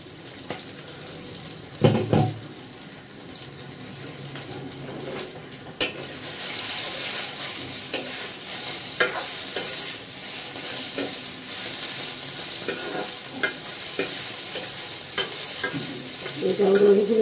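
Chutney ingredients stir-fried in a pan give a continuous hiss and sizzle with repeated spatula scrapes and knocks, plus a louder rush like running water after an early thump.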